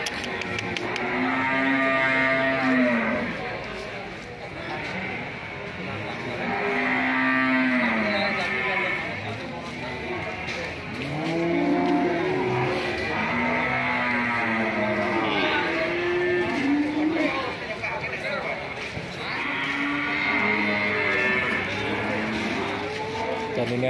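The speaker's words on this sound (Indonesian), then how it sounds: "Dan ini ada sapi betina juga jenis PO atau sapi Jawa." Repeated loud moos from Javanese PO cattle, one after another with short gaps, close by, over a steady background of farmyard noise.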